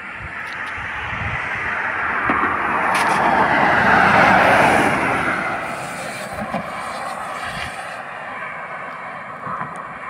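Skygo Bolt 150 motorcycle ridden at top speed, a steady loud engine and wind roar that swells toward the middle and holds on without a break.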